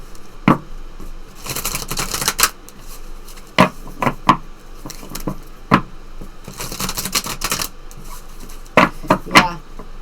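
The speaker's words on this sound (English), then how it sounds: "I want to pull for you guys an Isis Oracle card to close your reading today" A deck of Isis Oracle cards is shuffled by hand in quick bursts of papery riffling and patting, with short pauses between rounds and sharp taps as the deck is squared.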